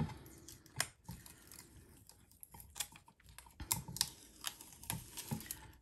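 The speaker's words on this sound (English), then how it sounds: "So let me peel it off." Vinyl stencil peels off a slate surface in a run of faint, close crackling ticks and small tearing snaps, irregular and quiet.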